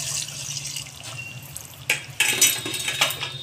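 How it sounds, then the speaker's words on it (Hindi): Water poured into a pan of frying goat liver, a steady splashing and trickling pour that swells louder in bursts toward the end, with no voices. "अब मैं थोड़ा कलेजी गलने के लिए पानी डालूँगी"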